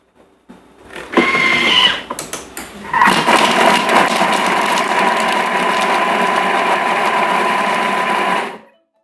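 A Thermomix with its blade spinning at speed 5 to chop food for butter chicken. A brief startup rattle builds into a loud, steady whirring mechanical drone lasting several seconds, then stops abruptly into silence.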